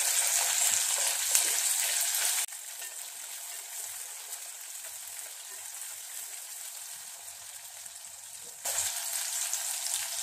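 Turkey berries frying in a pan, a steady bright sizzle with crackling that drops to a softer, quieter hiss midway and swells loud again near the end, with no voices.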